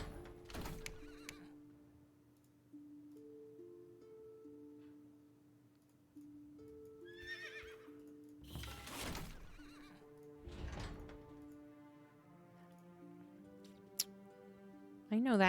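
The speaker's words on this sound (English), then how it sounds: "We'll get mostly horses to begin with." Horses in the real-time strategy game Eyes of War neigh and whinny in several short bursts, with soft hoof clip-clops and game interface ticks, over quiet background music.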